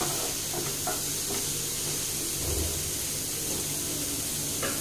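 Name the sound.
onion being roasted in a pan for paneer bhurji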